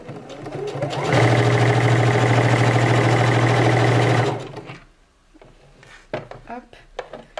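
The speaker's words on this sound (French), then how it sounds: "je couds à 2 mm en écartant bien la doublure du zip" Sewing machine stitching a dress lining close to a zip, a loud steady mechanical whir lasting about three seconds, then tapering off into light handling noises and someone speaking.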